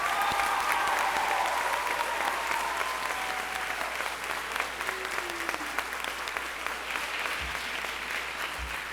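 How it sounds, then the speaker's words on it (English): Audience applause at a high school spring orchestra concert, steady and sustained throughout, with a few faint low thumps near the end. "Give them a big round of applause."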